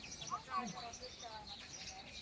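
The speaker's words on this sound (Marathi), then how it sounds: "शंभरहून अधिक चिमण्या इथं एकत्रित येतात" A crowd of over a hundred sparrows gathered in a courtyard to peck grain chirps and twitters in quick, overlapping calls against a steady background hiss.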